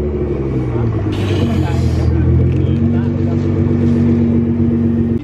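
A Nissan GTR idles with a deep, rumbling engine, then gives a short, gentle rev that climbs and holds. People talk nearby throughout.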